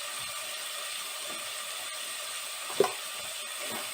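Ground spices with turmeric and salt sizzle steadily in hot oil in a pan for an aloo dum potato curry, a soft, continuous frying hiss with a single brief clink of a utensil near the end.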